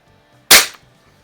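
A single sharp crack from an Umarex Ruger APX NXG .177 pump-action pellet rifle fired after ten pumps with a Meisterkugeln pellet, close and loud with a quick decay into near silence.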